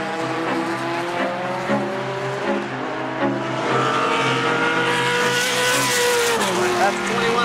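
A race car laps Infineon Raceway with a loud, sustained engine drone that rises and shifts pitch through gear changes, continuous and close, with faint voices beneath.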